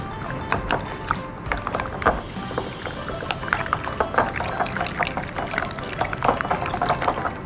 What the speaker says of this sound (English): and then give this a really good mix.